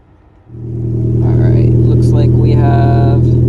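A 600+ hp Genesis Coupe engine fires up after a short crank and settles into a loud, steady idle rumble, with voices talking over it.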